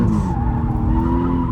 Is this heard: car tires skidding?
yes